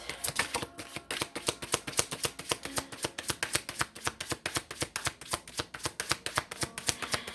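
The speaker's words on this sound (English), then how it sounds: "So let's grab a couple tarot cards." Tarot cards being shuffled by hand, a quick steady run of crisp riffling slaps repeating evenly throughout, close and fairly quiet with no voices.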